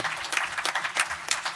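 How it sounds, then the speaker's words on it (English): Brief, polite audience applause at a Masters of the Universe convention panel, scattered claps rising and falling in quick bursts, fairly faint and somewhat distant. "And polite applause, thank you."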